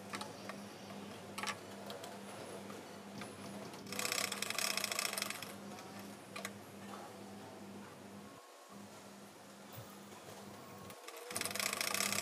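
A sewing machine stitches silky blouse fabric with a canvas-paper backing, its needle running in a fast, even mechanical whir with short pauses and restarts, close and steady, with no talking.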